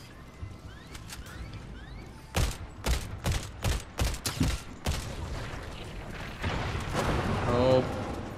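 Gunfire in Fortnite bangs out in a quick series of about eight loud, close shots, followed by a rumbling swell of game noise, with voices talking throughout.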